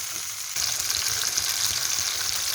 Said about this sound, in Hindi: इसके अंदर ये जो है ना टमाटर, अदरक, लहसुन और हरी मिर्च का पेस्ट ऐड कर देंगे और इसके साथ इसको अच्छी तरह जो है भूनेंगे